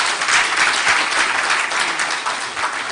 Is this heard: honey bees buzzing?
no